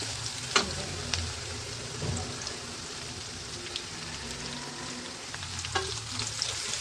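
Garlic fries with mustard greens for dhaba-style shorshe shaag, a close, continuous sizzle with scattered crackles and spatula clicks as the pan is stirred.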